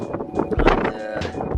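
Strong wind buffets a cold, exposed mountain summit during the National 3 Peaks Challenge, a steady roaring gust noise battering the microphone for a couple of seconds with no one speaking.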